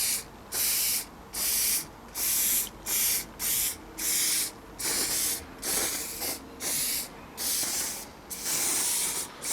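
Waterproofing spray can spraying onto clothing in a series of loud, close hissing bursts of uneven length, separated by short pauses as the can begins to run low.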